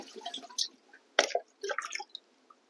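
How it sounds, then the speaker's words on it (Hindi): Water splashes and trickles in short uneven bursts as it is poured into a Kenstar 45L personal air cooler's tank, close and fairly quiet, with no talking. "अब मैं इसको इसमें पानी फिल करके देखता हूँ।"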